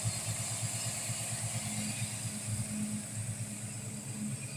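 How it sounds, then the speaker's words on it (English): A Chevy big block engine with an overheating problem runs with a steady, low, rumbling pulse that stays even throughout, fairly quiet and heard alone with no voices. "This Chevy big block."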